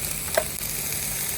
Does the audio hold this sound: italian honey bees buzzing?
no